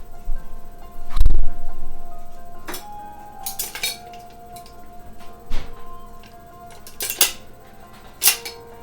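Pots, pans and metal utensils clank and clink in a home kitchen beside a pressure cooker, with a heavy thud early on and then scattered sharp, close knocks and rattles between quieter pauses.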